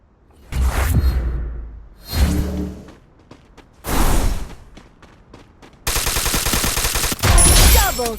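Woodpecker rifle fire in the Free Fire video game: several loud, close bursts of gunshots separated by short gaps, then a sustained rapid volley near the end.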